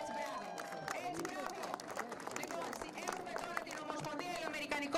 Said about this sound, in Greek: δώστε άλλο ένα χειροκρότημα